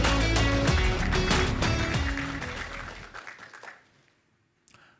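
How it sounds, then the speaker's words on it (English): An audience at a business and startup forum opening gives a burst of applause that is loud at first, then thins and fades to silence within a few seconds. "Let's give a big round of applause for Joseph."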